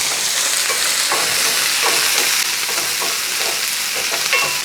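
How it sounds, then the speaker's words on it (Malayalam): Chopped onions, green chillies and garlic fry in hot oil in a pan, a loud, close, steady sizzle broken by repeated scraping stirs, with no voices. "ഒരു മൂന്നാല് പച്ചമുളക് മുറിച്ചിട്ട് ഒരു അഞ്ചാറ് വെളുത്തുള്ളി അത് നമുക്ക് ഇട്ട് കൊടുക്കുക ഒന്നിളക്കി കൊടുക്കാം"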